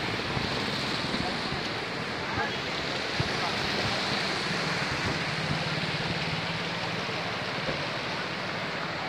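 Broad, continuous rushing of the flooded Yamuna River at Yamunanagar, flowing above the danger mark, a steady roar with no pauses and no voices.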